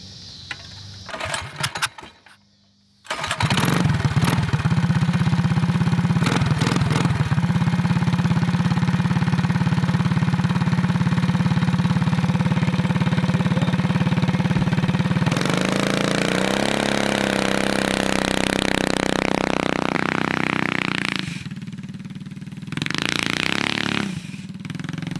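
An outlaw go-kart engine with a freshly adjusted carburetor coughs a few times, then fires and settles into a loud, steady buzzing idle up close. Near the end it revs up, then cuts out briefly before catching again.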